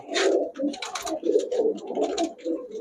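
Pakistani highflyer giribaz pigeons coo up close in a repeated, throaty rhythm, several soft overlapping calls running steadily with no talking.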